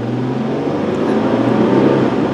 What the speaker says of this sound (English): Let's do a little bit of an acceleration test